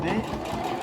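Brief burst of a sewing machine backstitching on a washable fabric mask, a close, fast mechanical whir with a voice talking over it.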